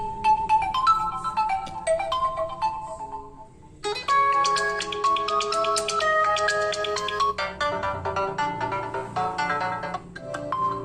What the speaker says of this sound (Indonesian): kita coba suara speaker dari Realme Narzo untuk memutar ringtone